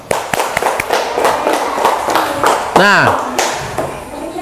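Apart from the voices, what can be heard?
class applauding group A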